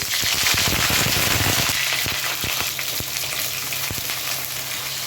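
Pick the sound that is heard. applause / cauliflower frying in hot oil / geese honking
cauliflower frying in hot oil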